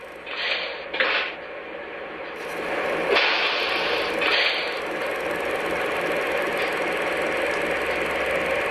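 An O-scale model train engine starts moving, giving a steady mechanical whir and hum that builds slightly and holds, with a few brief brighter clicks early on.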